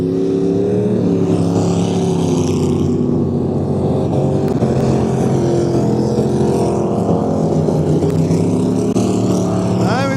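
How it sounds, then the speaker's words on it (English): Race car engine misfiring and running on six cylinders, a rough, uneven drone passing close by at the track, loud throughout with no clear gaps. "As he's misfiring, sounds like he's only running on 6 cylinders."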